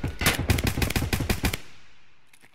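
Rapid automatic gunfire in Escape from Tarkov, a burst of about a dozen sharp close shots in quick succession that stops abruptly, leaving a fading tail and a couple of faint distant pops.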